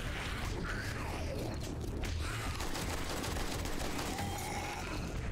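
Gunfire in 7 Days to Die, a quiet run of sharp shots and clattering mechanical clicks spread across several seconds against a busy, noisy background.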